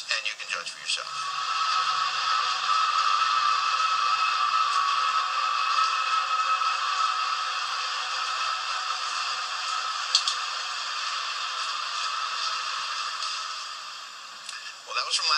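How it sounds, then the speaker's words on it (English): One World Trade Center tower whistling in the wind, a sustained eerie tonal cry held over a hiss of wind and static, steady for most of the stretch with a few faint clicks. "the tower began whistling again with a slightly different two-toned cry"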